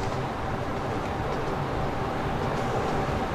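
A train pulls out of a station in the Train Fever simulation game, a steady dense rumble of rolling wagons holding constant volume throughout with no voices.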